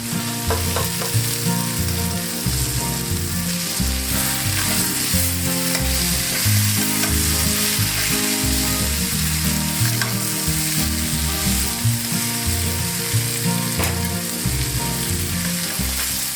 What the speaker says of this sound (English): The liver will fry about a total of 5 minutes in all.